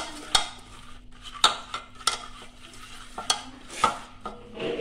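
A spoon stirs ingredients through hot oil in a pan, sharp metallic scrapes and knocks landing every second or so over a low, continuous sizzle, close and clear with no voices.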